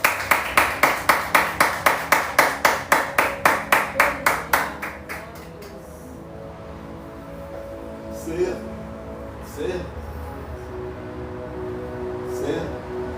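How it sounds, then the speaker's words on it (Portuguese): A church congregation claps together in a steady rhythm for about five seconds, loud and even. The clapping stops abruptly, and after it a voice speaks faintly and a few quieter sounds follow. "Vamos aplaudir Jesus com alegria."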